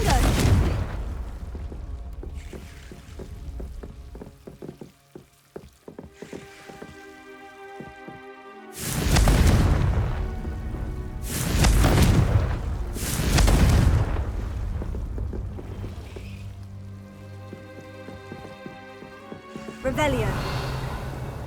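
Confringo fire spell blasts in the Hogwarts Legacy video game, with three or four heavy booming bursts in the middle over a steady bed of game music and ambience.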